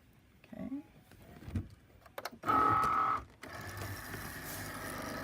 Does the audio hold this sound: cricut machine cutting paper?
yes